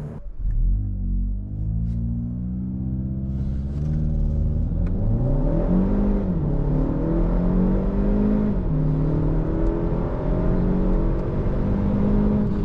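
A Kia ProCeed GT accelerates hard from a standstill, its engine note climbing through several gears with rising whine and brief dips at each shift, heard close and steady from inside the car with no talking.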